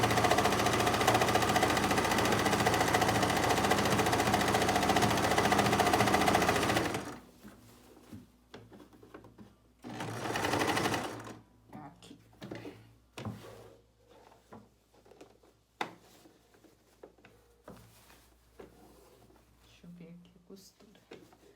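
A domestic sewing machine runs in a loud continuous burst while stitching fabric for a kitchen textile piece, then stops; quieter handling clicks and a short second burst follow.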